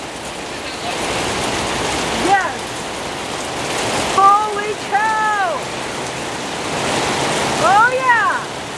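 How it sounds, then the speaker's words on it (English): Steady heavy rain hisses and patters nonstop, with a few bird chirps and brief exclaiming voices cutting through the downpour. "Oh yeah, rain. Rain, rain, rain."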